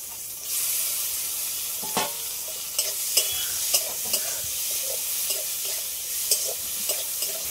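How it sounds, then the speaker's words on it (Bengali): Prawns rubbed with salt and turmeric fry in hot oil with crushed garlic and green chillies, a steady close sizzle broken by repeated scraping stirs and light clacks of a spatula against the pan. "লবণ হলুদ মাখিয়ে রাখা চিংড়ি মাছ এর সাথে ভেজে নেব।"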